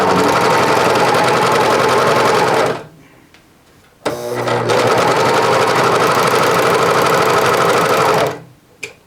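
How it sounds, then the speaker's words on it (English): A serger sews the side seams of a pair of jeans, whirring loud and steady with a rapid mechanical chatter in two long runs separated by a brief pause, then stopping. "got the sides all serged up"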